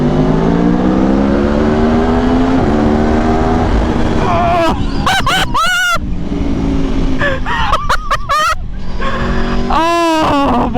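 An Aprilia Tuono V4 Factory motorcycle with a stock exhaust roars loudly and continuously in a tunnel, its exhaust note climbing sharply through several hard revs with brief drops between gear changes.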